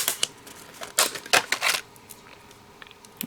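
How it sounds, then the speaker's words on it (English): A die cutting machine pressing a stamp die for a wreath design gives a handful of sharp mechanical clicks and clunks in short bursts, then goes quieter with a final tap. "let's do the die cut"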